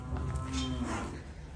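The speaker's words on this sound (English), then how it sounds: "More cattle going round." Cattle on a farm with a JCB TM320S feed pusher at work: a single drawn-out low moo, close and fairly loud over a steady background rumble.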